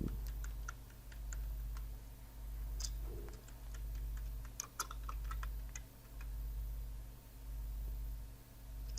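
Typing on a computer keyboard while entering text in Microsoft Word: a steady run of light, close key clicks with scattered sharper taps over a constant low hum, no talking.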